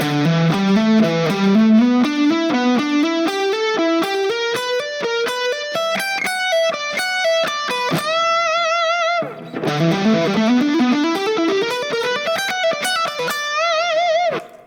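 Electric guitar with distortion ripping through fast pentatonic licks, rapid ascending note runs in two bursts split by a brief pause, loud and close with no talking.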